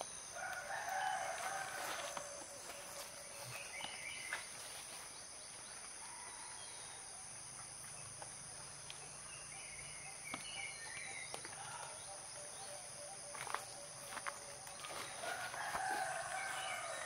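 A rooster crows a few times in the distance, faint against a constant high insect drone and quiet outdoor ambience.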